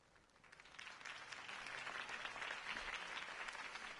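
Crowd applause from a political rally scene in the Batman Telltale video game, a steady wash of clapping that swells after the first half second and holds loud and dense to the end.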